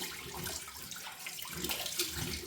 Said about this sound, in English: I'm going to rinse my face with cold water.